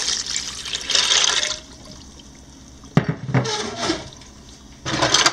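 Four cups of water poured into a pressure cooker while making macaroni and cheese, heard as bursts of splashing, running liquid separated by quieter pauses, close and fairly loud with no talking.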